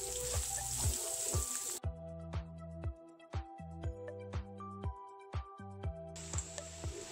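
Medium-sized sliced onions fry in a pan, giving a soft sizzle. Repeated knocks and scrapes of a utensil against the pan punctuate it in an uneven rhythm, heard up close.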